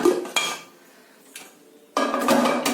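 Metallic clanks and scrapes of a pressure cooker lid being opened after cooking sambar rice, a few sharp knocks followed by a louder rattling burst.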